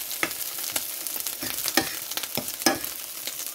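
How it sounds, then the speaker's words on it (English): Brussels sprouts sizzle on a grill, a continuous crackling hiss punctuated by sharper pops and scraping stirs at close range, with no talking. "My Brussels sprouts are already starting to get pretty well grilled here."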